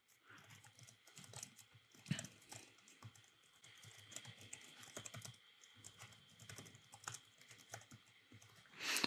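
Someone types LaTeX code on a computer keyboard, with a brisk, irregular patter of close key clicks arriving in quick bursts and short pauses, and the loudest clatter at the very end.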